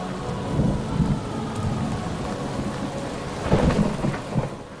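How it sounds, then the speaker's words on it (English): Steady heavy rain pours outdoors while low rumbles of thunder roll beneath it, swelling near the end; loud, continuous and with no voices. "what are your thoughts on this rain?"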